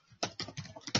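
Fingers type on a computer keyboard in a short quick run of about five keystrokes, crisp and close with no talk.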